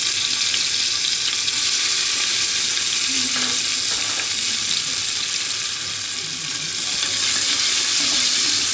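Cashews and raisins fry in hot oil over a lowered gas flame in a pressure cooker for pulao, making a loud, steady, close-up sizzle that continues without a break, with faint stirring noises.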